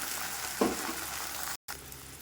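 Steady sizzling of ground coconut paste frying in a hot pan for mor kuzhambu, a buttermilk curry, close by, with a brief clatter partway through.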